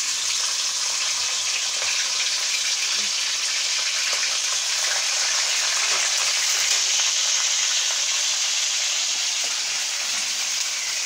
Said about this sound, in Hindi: तेल गर्म हुआ अभी हम प्याज डालेंगे